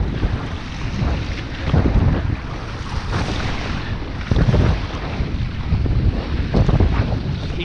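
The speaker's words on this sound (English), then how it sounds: "Paddling through." Kayak paddled through choppy sea water off Filey Brigg during a fishing competition, with steady splashing and wash blending into continuous wind buffeting on the microphone, loud and close throughout.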